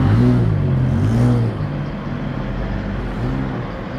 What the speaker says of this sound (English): Oh no, that was the ice cream truck.